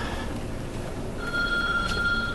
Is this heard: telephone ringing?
yes